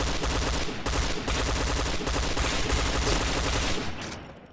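P90 gunfire in a Point Blank deathmatch on the Desert Camp map, a loud continuous automatic stream of rapid rhythmic shots that fades out at the very end.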